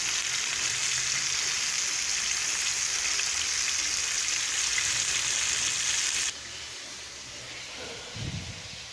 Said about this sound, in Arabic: بدأ السمك يا حبايبي بقليه اهو في الزيت سخن